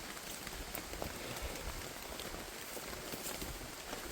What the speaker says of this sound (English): It's been raining for 3 hours.